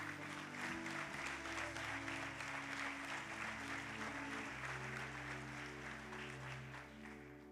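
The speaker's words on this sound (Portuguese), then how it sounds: "Dê um aplauso a Jesus por ele." A church congregation applauds during a sermon, continuous crowd clapping at a fairly low level over a steady sustained keyboard or organ tone underneath.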